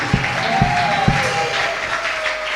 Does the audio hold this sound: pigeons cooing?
no